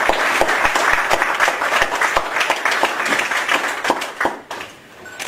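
Audience at an investment conference on the DRC held in Washington, DC applauding loudly, with distinct individual claps in a dense, uneven burst that thins out toward the end.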